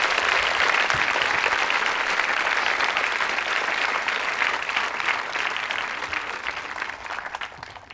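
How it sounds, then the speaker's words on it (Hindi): Sustained applause from an audience at a women's engineering college quiz show in Ajmer, a dense, even wash of many hands clapping that slowly fades toward the end, with no voices. "तालियां जानकारी के लिए बजा सकते हैं आप।"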